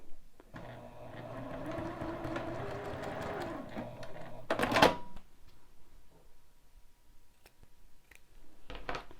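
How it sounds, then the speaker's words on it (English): A sewing machine stitches a quarter-inch line along a diagonal of fabric with a steady, close whirring hum for about four seconds. A sharp snip follows, then quiet handling clicks. "Run a stitching line at 1/4 of an inch down the diagonal."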